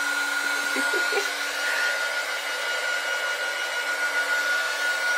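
A heat gun blows hot air over painted paper, a steady loud whooshing roar with a faint whine that holds unbroken throughout, close by with no talk.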